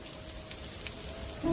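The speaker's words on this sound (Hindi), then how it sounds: "बारिश इतनी तेज थी" Heavy rain on a stormy night, a brief steady hiss of pouring water that swells slightly at the end, with no voices.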